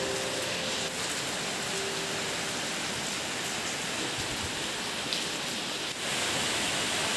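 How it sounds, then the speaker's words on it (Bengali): Heavy storm rain falls steadily outside a home kitchen, a dense unbroken hiss of downpour that stays loud and even all the way through, with no voices over it. "চলছে দেদার ঝড় বৃষ্টি"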